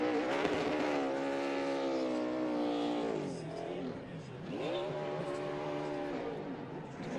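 NASCAR Cup Series race car doing burnouts after winning the 2018 Daytona 500: a high revving engine wails in sustained pitched bursts, dipping and rising again, with crowd noise and broadcast commentary running underneath.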